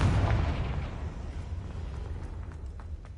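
A fiery Confringo spell explodes in Hogwarts Legacy, a single heavy booming blast up front that rolls into a rumbling decay with faint crackles trailing off.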